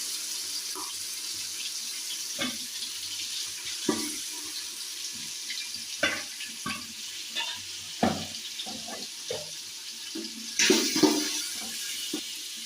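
Ginger garlic paste fries in oil with softened onions for road-side style biryani, giving a steady low sizzle broken by intermittent scrapes and knocks of a stirring spoon in the pan.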